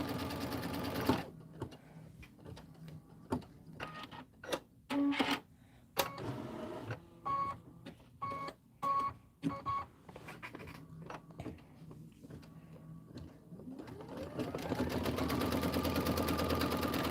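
A sewing machine stitches down an inner quilt border in bursts of rapid whirring, starting and stopping repeatedly before a longer steady run near the end, close and clear with no talk.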